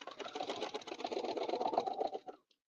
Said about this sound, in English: So I'm just stitching part of it, right?